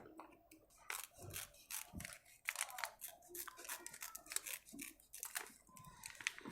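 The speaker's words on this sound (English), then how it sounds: "So the packet is now cut" A freeze-dried Tubifex worm fish food packet is cut open with scissors, giving a close, quiet run of crisp snips and crinkly plastic rustles spread over several seconds, with no voices.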